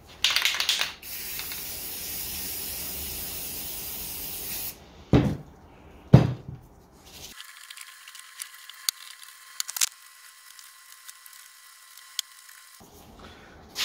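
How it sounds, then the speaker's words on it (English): An aerosol can of spray paint hisses onto a plastic sheet covering a table, a steady spray lasting about four seconds, followed by clicks, knocks and a stretch of quiet. "I'm gonna spray it onto the table that I have the plastic on"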